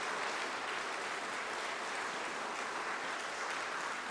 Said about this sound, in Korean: 우리 기쁨으로 박수로 환영해 주시기 바랍니다.